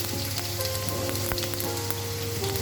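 Nigella seeds sizzle in hot oil left over from frying small fish, a loud, close, continuous crackle with sharp pops scattered throughout.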